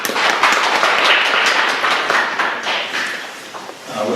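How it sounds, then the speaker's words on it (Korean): Church congregation at a Sunday service in Prague applauding, a dense, steady wash of many hands clapping that fills the room and tapers slightly near the end. "박수 한번 쳐주세요."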